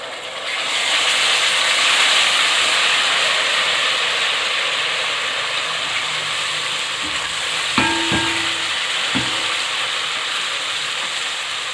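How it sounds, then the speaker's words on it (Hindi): Ginger garlic paste hits browned onions in a hot pan for an egg masala curry, setting off a loud, steady sizzle that carries on throughout, with a couple of brief utensil clanks near the end. "अब इसमें मैं डाल रही हूँ जी अदरक लहसुन का पेस्ट"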